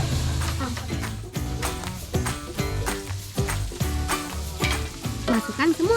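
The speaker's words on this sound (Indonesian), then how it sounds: "Masukkan semua pisang yang telah dipotong-potong. Aduk hingga tercampur rata." Chopped bananas being stirred in a wok with chili and turmeric paste, with steady frying sizzle and repeated scraping, clattering stirs over a dense, continuous layer of tonal background sound.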